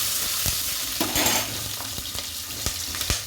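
Ginger, garlic and green chili fry in oil for a crab gravy, making a steady close sizzle punctuated by regular knocks and scrapes of a spoon stirring the pan, with no voices.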